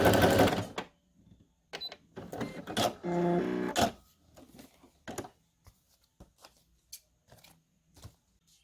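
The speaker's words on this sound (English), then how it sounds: "Okay, so I just sewn over this and it didn't take because I'm now finished with my thread." A sewing machine stitches over a small journal tag in short bursts, with one longer run of rapid needle clatter followed by brief taps and pauses, close and fairly quiet.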